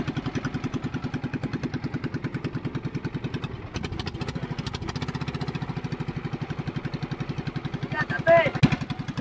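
A steady, rhythmic boat engine drone chugs throughout, with a brief louder burst near the end; voices are faint or absent beneath the mechanical noise.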